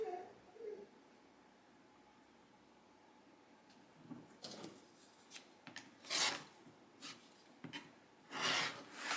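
Excess fabric being trimmed from a quilt block, a series of short, scraping cutting strokes, close and fairly faint, irregular and growing denser toward the end over a quiet background.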